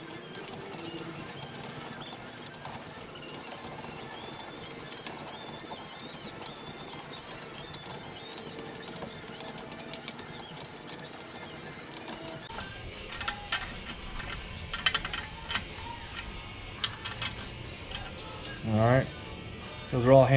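A socket wrench works bolts during a jet install on a 2002 Yamaha outboard, giving a busy, rapid ratcheting whir that rises and falls. Someone talks over it, and a few louder thumps come near the end.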